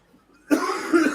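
A single loud cough bursts out after a brief quiet moment, close and harsh, trailing off into a rough exhale.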